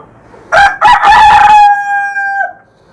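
A rooster in a poultry cage crows loudly and close, a single drawn-out call that rises and trails off, among hens that have just started laying eggs.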